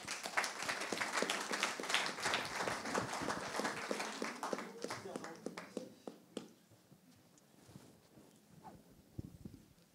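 A conference audience applauds a guest joining the stage at a business leaders' colloquium in the Avignon area, a dense steady clapping for about six seconds that thins into scattered claps, with some talk mixed in.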